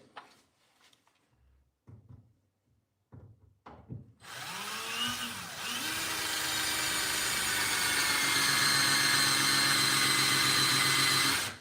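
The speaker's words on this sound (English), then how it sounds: "This drill is fucking useless, by the way." A few faint knocks and scrapes, then a power drill starts up at about four seconds and whirs steadily and loudly, its pitch holding until it suddenly cuts off.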